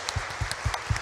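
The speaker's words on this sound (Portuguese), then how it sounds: "Uma salva de palmas para os pais" A church congregation claps for the fathers during a Sunday Mass homily: a short run of four or five distinct, evenly spaced claps, fairly faint, with no talking over them.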